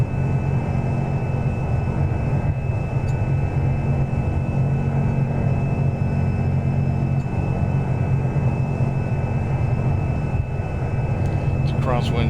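A light aircraft in the X-Plane flight simulator taxiing onto the runway and starting a crosswind takeoff, its engine a steady, loud drone with constant hum running throughout, with talk over the top.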